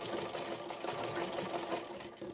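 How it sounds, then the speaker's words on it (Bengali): A sewing machine runs steadily while stitching a lungi, a close, fast, even mechanical clatter of the needle that continues without pause. "এইভাবে সম্পূর্ণটা আস্তে আস্তে করে সেলাই করে নিলাম।"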